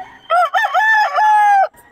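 A rooster crows loudly and close at a cockfight, one long rising and held call of about a second and a half, alone without talk.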